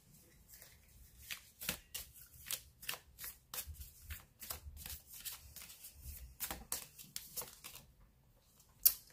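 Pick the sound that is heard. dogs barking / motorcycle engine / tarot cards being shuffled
tarot cards being shuffled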